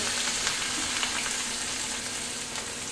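Green chillies go into a sizzling tempering of mustard seeds, asafoetida and cumin in hot oil, giving a loud, dense, continuous close-up frying hiss with no talking.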